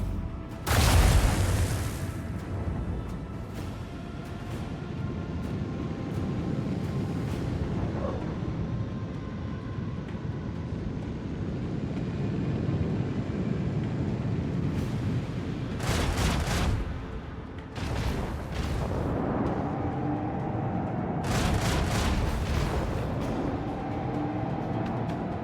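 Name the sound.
torpedo strikes exploding in Rogue Trader video game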